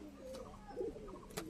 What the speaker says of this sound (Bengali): খুবই সুন্দর পায়রা।